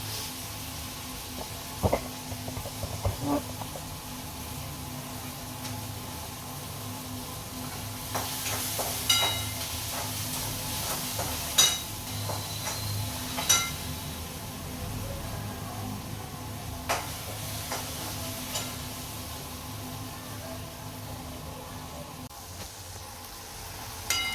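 Onions fry in a pan for paneer bhurji, giving a soft continuous sizzle and hiss with occasional stirring scrapes and light clinks of a spatula, fairly quiet and steady throughout.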